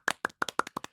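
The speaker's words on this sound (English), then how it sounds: "Could throw some claps and applauses in that bad boy." A clapping sound effect of about nine crisp, dry hand claps in an uneven rhythm, close and clean, with no voices over them.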